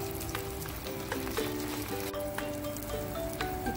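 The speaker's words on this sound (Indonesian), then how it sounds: "Kita goreng selanjutnya seperti tadi ya." Sticky rice gemblong fritters frying in hot oil, a steady dense sizzle with crackling pops throughout, close and continuous with no talking.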